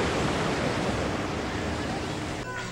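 Ocean surf on the beach at Santa Cruz makes a steady, loud, broadband wash that fills the whole stretch, with some wind buffeting the microphone.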